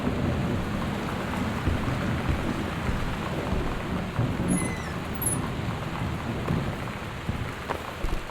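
A thunderstorm in the Gone Home video game brings steady heavy rain and low rolling thunder, with a couple of faint creaks, all without speech.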